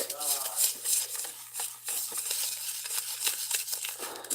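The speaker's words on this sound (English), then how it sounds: "It's going to take me a long time to stir this, but as I stir it, I'm spreading it too" Stirring a heavy mixture for a koi pond model, close scraping and swishing strokes in a continuous irregular rhythm, moderately loud over a faint low hum.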